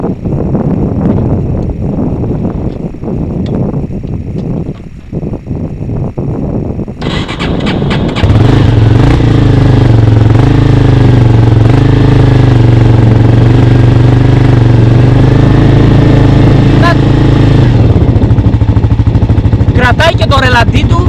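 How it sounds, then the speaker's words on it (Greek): On a Namibia trip, a motorcycle with an ignition fault, where the spark plug was not getting proper current, kicks into life after the repair and settles into a loud, steady idle, with someone talking over it. "Κρατάει και το ρελαντί του, δουλεύει άψογα τώρα."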